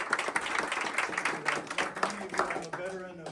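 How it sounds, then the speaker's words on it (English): Audience clapping and cheering at a party celebration, mixed with talk and whoops throughout, the applause patchy and fairly close. "big round of applause for such an amazing"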